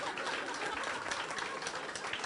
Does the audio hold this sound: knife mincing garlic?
no